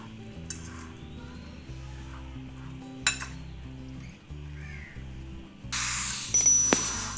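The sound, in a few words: mixing bread omelette batter with a spoon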